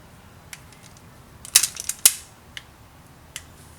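A wire stripper gauge tool working on wiring for a Hondata traction control module, a few sharp clicks and snaps with a cluster of crisp mechanical crunches in the middle, close and otherwise quiet.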